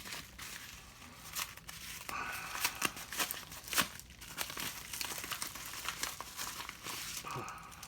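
Crinkling and tearing of a small envelope package being opened, a close, steady stream of papery crackles and rustles with no talking.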